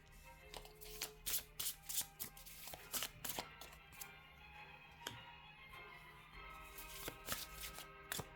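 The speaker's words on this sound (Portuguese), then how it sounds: "Vou terminar de tirar as cartas do oráculo." Oracle cards riffle and slap in a series of quick shuffling bursts, close and soft, followed by lighter taps and flicks as cards are drawn and laid down.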